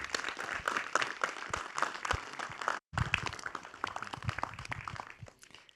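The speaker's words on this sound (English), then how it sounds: "Another round of applause for Sigma CEO, Mr. Kazuto Yamaki." Sustained applause from an audience at a lens launch event at the Academy Museum of Motion Pictures, dense clapping that fills the space, briefly breaking off for a moment before resuming.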